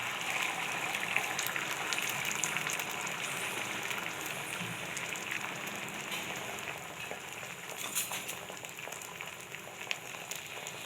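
Beaten egg mixture poured onto a hot, oiled dosa pan for a Tamil kalaki, giving a steady, continuous sizzle with a watery, crackling hiss that holds at an even level throughout, with no voices.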